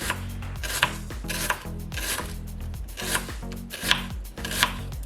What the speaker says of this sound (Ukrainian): І дрібнемо цибулю, нарізаємо.